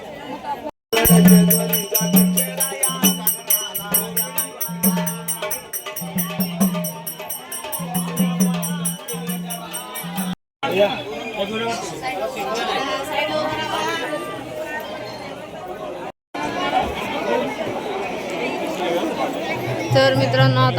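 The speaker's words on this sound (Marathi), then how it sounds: "जेजुरीत कधी पण या गर्दीच असते" Dense crowd murmur fills the busy Jejuri temple fort, with many overlapping voices forming a steady babble and occasional nearer voices standing out, continuous throughout with brief dropouts.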